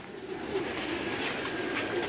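Pure teddy pigeons murmur in a low, steady coo from a rooftop loft, soft and continuous with no voices present.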